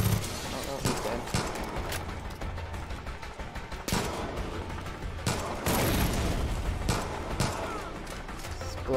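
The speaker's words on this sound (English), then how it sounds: "Explosion." Explosion and bursts of gunfire in the Far Cry 5 video game, with sharp loud blasts and repeated shots over continuous battle noise, while a voice talks over the action.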